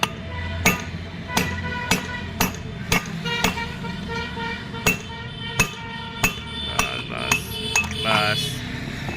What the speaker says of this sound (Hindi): हथौड़ी ठोका।